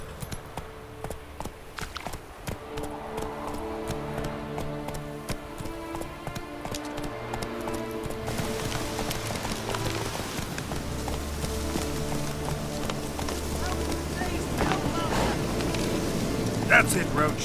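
Horse hooves clip-clop at a steady walking pace in The Witcher 3, set under a low sustained music score that swells in the second half.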